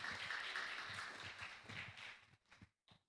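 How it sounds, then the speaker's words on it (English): Audience applause for a professor at an international public lecture, a short burst of many hands clapping that fades out into a few scattered claps, moderately distant. "Let's give applause for the professor."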